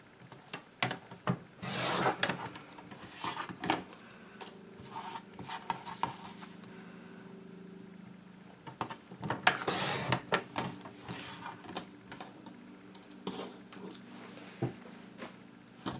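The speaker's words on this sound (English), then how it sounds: "I'm going to cut just to the inside of that gold line on either side" Scissors cutting card stock for a recycled Christmas card, trimming just inside a gold line: repeated close scraping, snipping strokes with soft rubs and rustles between them, including a busier burst in the middle.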